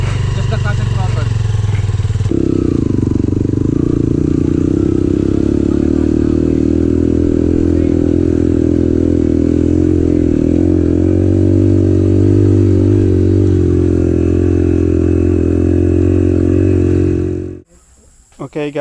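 An off-road motorcycle works a rough trail on clutch and throttle, its engine a loud, continuous close drone that shifts pitch and labours for most of the stretch, then cuts off abruptly near the end.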